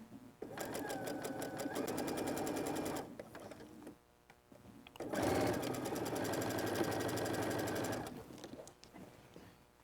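A sewing machine stitches a mini quilt with a small stitch length, running in two loud, steady bursts of rapid mechanical clatter separated by a short pause.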